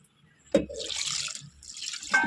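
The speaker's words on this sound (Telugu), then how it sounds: "ఇట్లా కలిపేసుకున్న తర్వాత వాటర్ పోసి ఉడకబెట్టుకుందామండి" A brief knock, then water pours steadily into a cooking pot of mixed boti (goat tripe) for boiling, with a splashing, filling sound that pauses and resumes.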